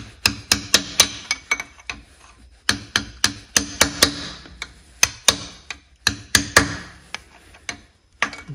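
Sharp metallic taps on an engine part of a John Deere D140 mower with a 22 hp Briggs & Stratton Intek engine, about two dozen close, crisp strikes in quick uneven bursts.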